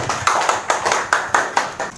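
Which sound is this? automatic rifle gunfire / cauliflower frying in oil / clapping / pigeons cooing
clapping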